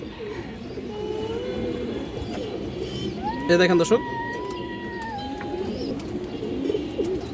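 Kaldom pigeons coo in low, soft, repeated rolls through the whole stretch, with someone talking over them and a brief louder burst midway.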